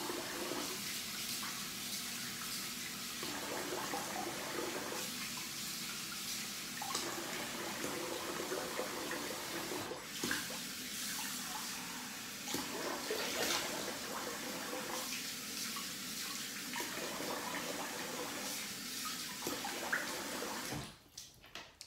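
A tap runs steadily at low volume while a face and DE Rockwell 6S safety razor are rinsed after a shave, with soft splashing surges every few seconds and a brief clatter at the very end.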